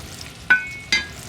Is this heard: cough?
no